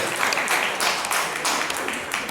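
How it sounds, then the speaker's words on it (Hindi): An audience at a Hindi poetry recital claps in waves, a moderately loud wash of many hands rising and falling in pulses over a couple of seconds. "जोरदार तालियां बजाइए"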